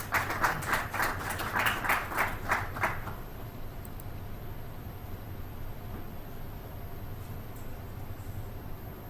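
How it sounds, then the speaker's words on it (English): Clapping greets the sponsor at a chamber of commerce breakfast meeting: a short burst of distinct, rhythmic claps for about three seconds, then quiet room tone. "Please, a round of applause for him."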